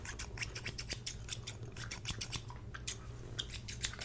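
Crisp scissors snipping in a rapid, irregular series of close, quiet cuts, heard alone with no voice over them.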